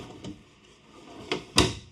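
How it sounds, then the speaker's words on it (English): Wooden kitchen drawers in a 2025 Grand Design Imagine 2500RL travel trailer opening, heard as a soft slide followed by two sharper knocks close by, with no talking. "a couple drawers that will open up as well"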